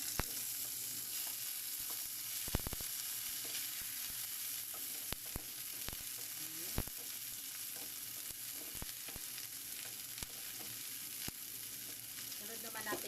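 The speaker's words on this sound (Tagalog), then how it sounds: "Magpa-brownie lang natin ng konti ang ating bawang." Garlic and onion sauté in a pan with a steady, fairly quiet sizzle throughout, broken by occasional sharp clicks and scrapes of a utensil stirring.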